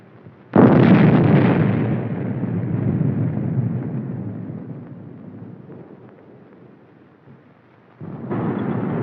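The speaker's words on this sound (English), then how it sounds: "A mock mushroom cloud rises high in the sky as simulated atomic explosions add" A sudden deep boom from a simulated atomic explosion in the 1954 US Army exercise Flash Burn erupts and rolls on as a long rumbling roar that slowly fades, followed by another rumble starting near the end.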